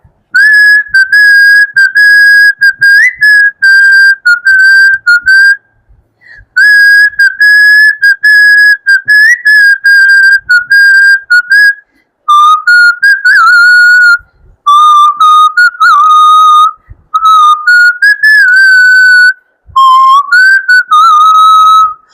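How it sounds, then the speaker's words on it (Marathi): A person whistles a song in clear, loud melodic phrases with short pauses between them. No one talks over the tune. "मी शिट्टीतून गाणं म्हणून दाखवणार"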